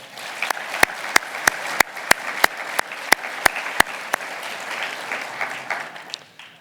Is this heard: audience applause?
yes